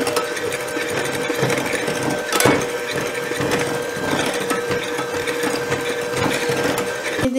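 A steady mechanical whirr of an electric mixer churns through red velvet cake batter with vinegar and vanilla extract, running continuously with a constant hum and a brief clatter partway through.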